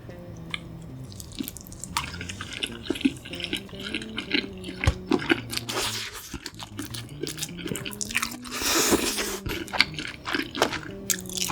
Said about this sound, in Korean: 다음은 불고기 피자를 한번 먹어보겠습니다.